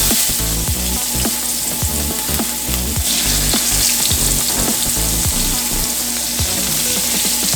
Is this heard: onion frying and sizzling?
yes